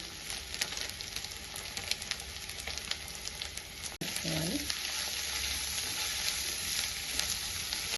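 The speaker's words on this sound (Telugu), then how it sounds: "కొంచెం ఇలా మధ్య మధ్యలో కలుపుకుంటూ ఉన్నాను" Leftover rice being stirred into egg fried rice in a pan gives a continuous close sizzle with faint scraping. A single sharp knock lands midway, and the frying hiss carries on evenly afterward.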